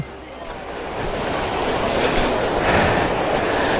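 A hidden waterfall in the hills of Vagamon, Idukki, roars as a dense, steady rush of falling water that swells slightly louder after the first second.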